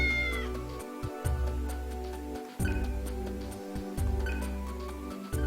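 A cat meows in the video game Digital Devil Saga 2, a few short cries over a steady layer of game music and ambience, with no talking.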